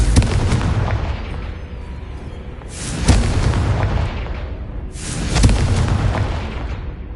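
Blasting-curse explosions from the spell Confringo in Hogwarts Legacy: three loud booming blasts spaced a couple of seconds apart, each with a sharp crack and a rumbling decay, alone with no talk.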